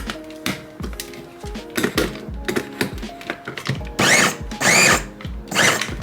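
An electric chopper whirs through onion in short bursts, each pulse a loud, close motor buzz with chopping rattle. The bursts start and stop irregularly, with brief pauses between them.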